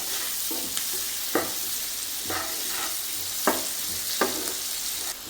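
Onion frying in butter with garlic, a steady close sizzle in a pan broken by several sharp stirring scrapes at irregular intervals, with no talking.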